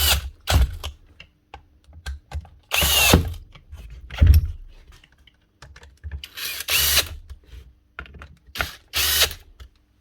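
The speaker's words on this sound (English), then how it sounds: "There's a wee 10mm chuck drill is good for it" A small 10mm chuck drill drives screws into aluminium in short, sharp bursts, about six spaced whirs with ratcheting clicks and quiet handling noises between them, close up and without speech.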